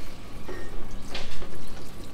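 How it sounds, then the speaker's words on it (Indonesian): Water is poured into a potted aglaonema Big Roy plant in a 24 cm pot, a close, fairly loud splashing and trickling that runs in short uneven surges for about two seconds. "Aku tinggal siram kayak gini."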